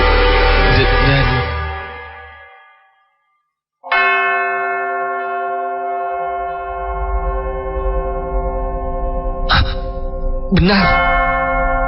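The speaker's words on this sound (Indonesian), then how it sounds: "dari jauh sayup-sayup terdengar suara lonceng. Mirip seperti suara lonceng delman." A delman horse-cart bell rings in an Indonesian radio drama, with sustained metallic tones that decay, pause, then return and ring on with a low rumble beneath and brief interruptions.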